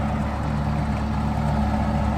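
A tractor's engine drives a water pump through its PTO for flooding a rice field, running at about a thousand rpm. It makes a steady, loud, continuous drone with a low harmonic hum throughout and no talking.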